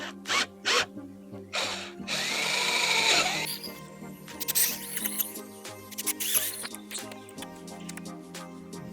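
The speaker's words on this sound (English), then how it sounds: "This is an older drill, so the chuck is kind of wearing out." An older power drill with a worn chuck whirs in several bursts, with a longer sustained run in the middle, close by, plus clicks and handling noises between.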